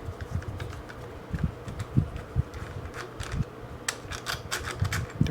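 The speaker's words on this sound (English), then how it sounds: "I'm gonna take out these two bolts on the front while holding" A wrench works bolts loose from a Honda Goldwing clutch reservoir, giving close, irregular metallic clicks and ratchet-like ticks in quick bursts with no talking.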